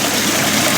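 Water runs steadily through flushed filter housings in a filtration setup, a loud close rushing with no breaks over the short stretch and no talking.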